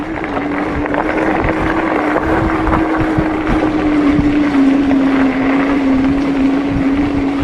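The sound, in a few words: riding a Hovsco GTSR e-bike on level 1 power assist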